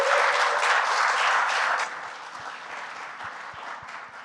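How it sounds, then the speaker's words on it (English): A crowd at a startup pitch night and awards event applauds loudly. The dense clapping drops to a softer, thinner patter partway through, with a few scattered claps near the end. "Clap it up."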